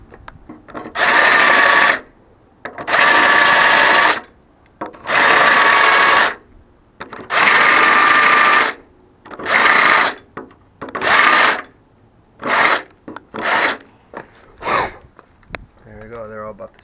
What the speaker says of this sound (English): And I just used a step drill bit